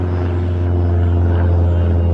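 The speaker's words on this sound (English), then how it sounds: "Oh look, here comes a plane again." An airplane flies over a mountain by a lake as a loud, steady droning engine roar that stays close and constant throughout, with no voices.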